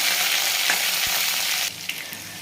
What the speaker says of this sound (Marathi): त्यानंतर आपण टाकणार आहे लसूण आठ दहा पाक्या लसूण असं जाडसर ठेचून घेतला तो टाकू सोनेरी कलर येऊ द्यायचा आहे